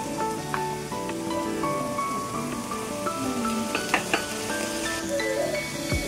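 Ginger paste sizzles and fries in hot oil in a pan already cooking onion and garlic paste, a steady close crackling hiss with light stirring scrapes throughout and no talk.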